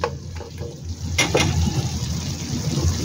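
Food being stirred in a hot pan with oyster sauce, giving a close sizzling hiss broken by a few scraping utensil strokes.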